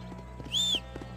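Horse hooves clop in a steady, even rhythm in the Red Dead Redemption video game, with a short high tonal cry over the middle of the hoofbeats.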